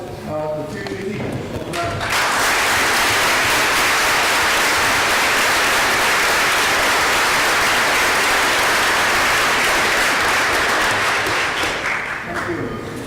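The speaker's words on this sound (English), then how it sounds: "please stand and be recognized, and let's applaud the future teachers" A meeting audience gives sustained, loud applause for future teachers, a dense even roar of clapping that starts after a brief moment of talk and carries on for about ten seconds before tapering.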